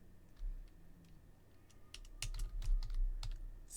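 Typing on a computer keyboard, a loose burst of quiet clicks that grows into a quicker cluster of sharper keystrokes, close and fairly soft over a low room hum.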